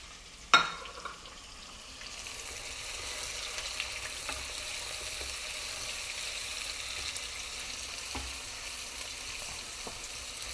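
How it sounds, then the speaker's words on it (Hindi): Onions dropped into hot oil with cumin for a Pakistani aloo qeema, a sharp splash followed by a steady, even sizzle of frying with a few faint clinks. "ज़ीरा हो गया, इसके अंदर हम प्याज डाल देते हैं।"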